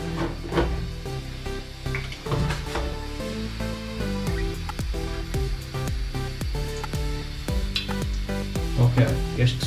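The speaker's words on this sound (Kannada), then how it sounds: "ಈಗ ಮೆಂತೆನು ಜೀರಿಗೆನು ಇದ್ರೊಳಗೆ ಹಾಕ್ಬೋದು" Fenugreek and cumin seeds hitting hot oil for gojju avalakki, a loud continuous sizzle with crackles and metal scrapes of stirring, close, with faint talk in the background.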